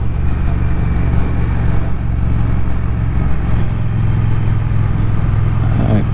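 Triumph Thruxton R motorcycle riding in sport mode, its engine a steady, loud low rumble running close throughout with constant wind and road noise and no voices.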